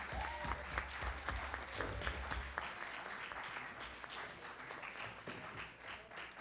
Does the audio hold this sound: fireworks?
no